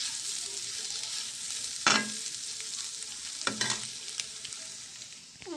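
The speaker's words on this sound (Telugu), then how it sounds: "పిల్లల కోసం తోటకూరని ఎగ్ ఫ్రై చేస్తున్నాను" Egg frying with amaranth leaves in a pan, a continuous crackling sizzle broken by a few sharp scraping stirs, close and with no talk.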